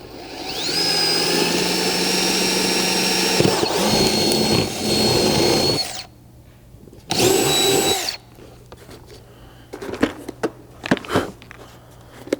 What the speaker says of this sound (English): I'm going to grab a 1/4 inch drill bit and just drill all the way out through the front of the panel